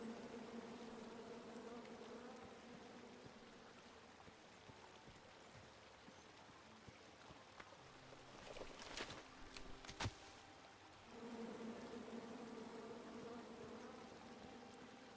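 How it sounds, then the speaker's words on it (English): A soft, steady buzz of bees in the King's Quest video game, faint and continuous, with a brief cluster of clicks and crackles partway through. "Come at me, bees!"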